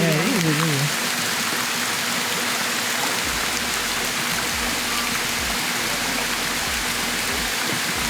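Caribbean waterfall pouring in a loud, constant broadband rush of water, close and steady throughout, with a faint brief tone at the start and no clear speech.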